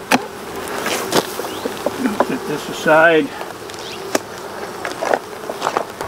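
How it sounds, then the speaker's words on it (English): Honey bees buzz over a frame in a brood box, a steady close hum under a short spoken remark, with a few sharp knocks and handling sounds. "lots of bees here on this frame"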